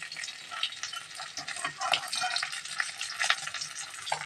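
Fish frying in oil for a hilsa head and shapla dish, a dense close crackle and sizzle with occasional clatters as pieces are moved, continuous and without talk.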